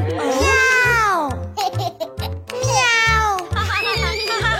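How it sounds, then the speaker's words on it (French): A cartoon cat meows in a bright, sing-song voice, with a few long, expressive mews broken by short chattering, childlike sounds. "Oh, c'est un chat!"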